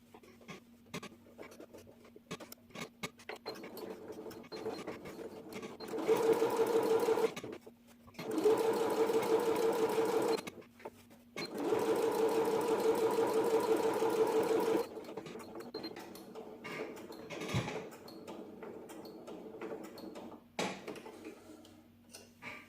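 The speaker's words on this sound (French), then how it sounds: "Maintenant qu'on a cousu les emmanchures" A sewing machine stitches the armholes of a wax-print fabric blouse, running in three long steady whirring bursts separated by pauses filled with close ticks and handling sounds.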